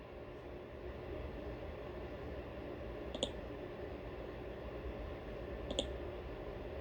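Two sharp, isolated computer mouse clicks about two and a half seconds apart, faint over a low steady room hum with no speech.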